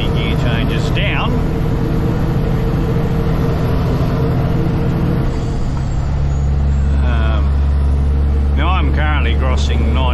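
A heavily loaded 91-ton road train's diesel engine drones loudly and steadily, its pitch dropping as it shifts gears partway through, with someone talking over the rumble.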